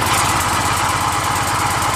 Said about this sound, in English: I'm going to give it a pull.